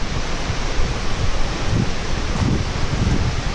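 A powerful, continuous roar of falling water, loud and broadband, with no pauses or voices.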